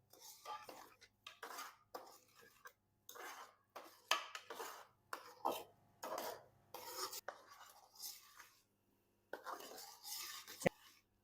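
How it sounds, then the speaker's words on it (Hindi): A metal spoon scrapes and stirs suji halwa with sugar in a pan, giving repeated soft scraping strokes in a steady rhythm, close and fairly quiet, with no talking. "अच्छी तरह मैं इस पर चम्मच फेरूंगा ताकि चीनी हमारी हलवे में अच्छी तरह से मिक्स हो जाए।"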